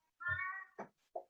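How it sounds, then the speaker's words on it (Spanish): A hungry cat gives one drawn-out, tonal meow, followed by two short, clipped calls. The sound is close but fairly quiet, with silence in between. "El gato tiene hambre."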